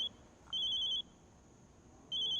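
A phone rings with a trilling electronic tone in two bursts separated by a pause, over a faint background hum.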